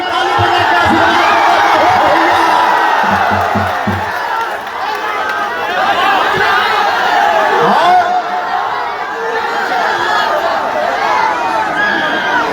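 Political rally crowd in Shahpur, Bihar, clapping and cheering, a loud mass of voices and claps that swells and eases, with some chanting and shouts mixed in.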